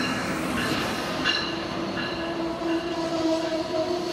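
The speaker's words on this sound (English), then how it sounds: "we'll see various Amtrak and MARC trains as they sped by through BWI Airport Station" An Amtrak or MARC passenger train rumbles past close by through BWI Airport Station with a steady clattering roar, wheels squealing faintly at moments as the cars roll through.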